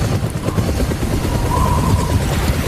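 A Medevac helicopter in a scene from the war film The Outpost (2020) produces a steady, loud rotor thrum that fills the background, with no talking.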